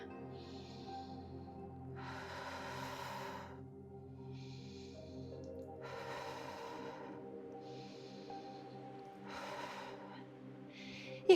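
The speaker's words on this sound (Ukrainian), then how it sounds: "Робимо 5 циклів дихання." Slow, deep breaths drawn while holding a high plank in a yoga session, three long audible exhales spaced a few seconds apart with quieter inhales between, close and alone over a soft steady background tone.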